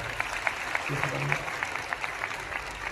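Audience applause for the speaker's wife at a motivational business gathering, steady crowd clapping with sharper individual claps popping out and faint background voices.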